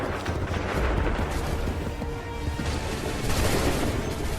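A dense, continuous volley of musket gunfire in the video game Assassin's Creed 3. Layered shots crackle and boom together at a steady loudness across the whole stretch, with no gaps between them.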